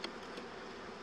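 Honeybees inside a wooden hive box, a steady, close buzzing drone that fills the whole short stretch with no voices.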